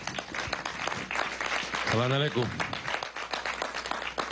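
Audience applause at a religious and cultural assembly, steady, dense clapping throughout, with someone briefly speaking over it in the middle.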